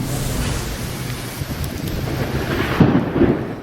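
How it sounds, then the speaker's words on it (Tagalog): A low rumble of thunder rolls beneath a constant hiss of heavy rain and gusting wind, with a deeper swell near the end. "Sinabayan ng kulog at kidlat ang malakas na ulan ngayong hapon."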